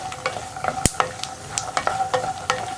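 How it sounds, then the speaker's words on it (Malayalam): Peanuts roasting in a pan while being stirred, with scraping strokes under a light sizzle and sharp, irregular pops and cracks breaking out every fraction of a second, close and fairly loud. "ഇങ്ങനെ പൊട്ടുന്ന സൗണ്ട് ഇടയ്ക്കിടയ്ക്ക് കേൾക്കും. അപ്പോൾ നമ്മൾ കൈ എടുക്കാതെ ഇളക്കി കൊടുത്തുകൊണ്ടേ ഇരിക്കുക."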